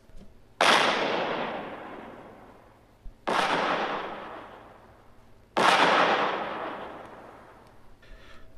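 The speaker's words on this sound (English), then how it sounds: "points a powerful weapon at Kyle, suddenly the Ark Hammer is rocked by violent explosions." Three violent explosions rock the Arc Hammer in Star Wars Dark Forces 2, each a loud sudden blast at a steady interval that rolls off into a long, fading rumble, with no voices.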